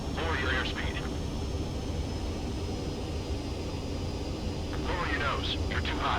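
A jet aircraft on its landing approach in Ace Combat 7, a steady roaring engine drone throughout, with radio-style voices talking over it.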